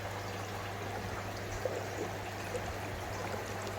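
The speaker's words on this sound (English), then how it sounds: "It's still bubbling now because of the CT in there." Water bubbling and trickling in an indoor koi pond, a soft steady flowing wash with a low hum beneath, faint and continuous, with no talk.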